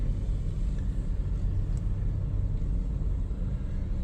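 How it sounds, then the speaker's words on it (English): Steady low rumble of road traffic, cars and engines droning together at constant loudness with no clear individual pass-bys. "Man, look at this traffic."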